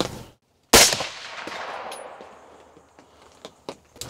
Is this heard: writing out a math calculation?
no